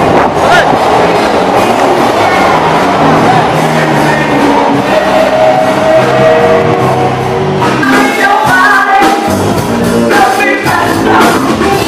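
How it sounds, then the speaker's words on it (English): A train rolling along the rails on a road trip through China, a loud continuous rumble with rhythmic clatter and squealing metallic tones close by, with no talking. "Going back on the train."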